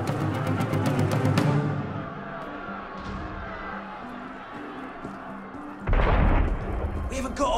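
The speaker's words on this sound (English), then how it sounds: "That was cannon fire" Cannon fire booms in a Paris street scene from the game Assassin's Creed Unity, a loud burst of blasts early on, then a rumbling lull and a second heavy boom near the end, with voices faintly underneath.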